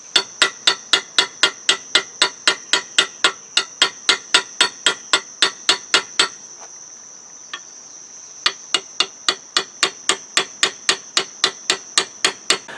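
Hammer peening brass pins into a leaf spring Bowie knife handle: a steady, evenly spaced series of bright metallic taps, close and loud, pausing for about two seconds midway before resuming at the same rhythm.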